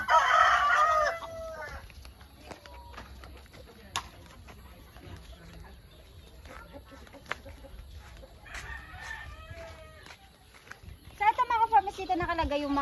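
Rhode Island White chickens and chicks on a farm: a rooster crows loudly at the start and end, with scattered clucks and chick peeps in between over a quiet background and someone talking.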